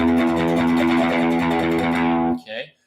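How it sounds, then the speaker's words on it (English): Electric guitar with light overdrive, a sustained chord ringing with a slightly gritty edge that cuts off sharply near the end, followed by a brief faint scrape. "I've just got a little bit overdrive on it"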